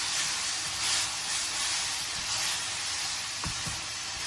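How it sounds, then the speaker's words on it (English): Pork and Chinese cabbage sizzle in a hot stir-fry pan, a steady bright hiss of frying and steam holding evenly throughout, with a couple of brief soft knocks near the end and no talking. "Quickly stir-fry it with the cabbage for about 20 seconds."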